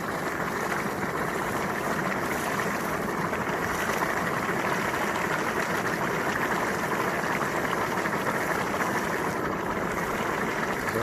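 Water bubbling and bursting up through hot, dry sand at the bottom of a cauldron during placer work, a loud, steady seething and churning roar with no pauses and no voices.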